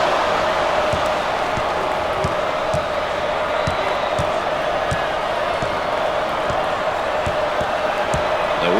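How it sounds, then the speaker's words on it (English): A basketball crowd in a packed home arena for Florida versus Miami keeps up a steady roar and chant throughout, with sneaker squeaks and ball bounces punctuating the continuous wash of voices. "The crowd starting to chant."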